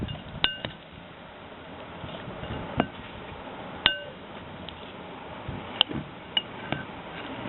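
A thick non-Newtonian mixture, presumably cornstarch and water, being stirred in a bowl, giving a scattering of sharp, sparse clinks and taps of utensil against the bowl over a quiet, low background, with no talking.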